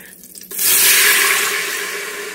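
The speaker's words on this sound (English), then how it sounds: "But take a cup of water." A cup of water pours into an Instant Pot, starting with a soft splash and turning into a steady, loud rush of water close by that fades slightly toward the end.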